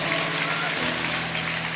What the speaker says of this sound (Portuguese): Você está aplaudindo você!